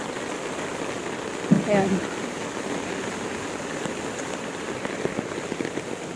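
Heavy rain drumming steadily on a rainbow umbrella during a strong typhoon: a continuous dense patter close overhead, with a brief voice speaking early on.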